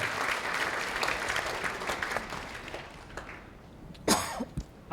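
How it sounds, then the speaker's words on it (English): Audience applause at a conference plenary session fills the first few seconds, then thins out and fades, followed by a cough and some throat clearing. "Give a round of applause."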